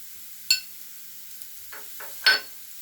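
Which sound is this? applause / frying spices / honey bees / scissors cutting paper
frying spices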